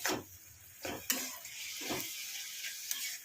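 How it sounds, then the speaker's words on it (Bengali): Fish curry masala sautéed in a pan, with a few short scraping stir strokes over a faint, steady sizzle close by. "এবার এটাকে আমি খুব ভালো করে কষিয়ে নেব"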